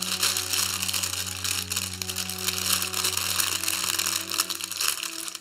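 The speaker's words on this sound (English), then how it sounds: "sorry, I apologize for the package noise," Crackling plastic packaging for a Jargar Superior D string being handled, a dense continuous crinkle close up, over a low steady hum.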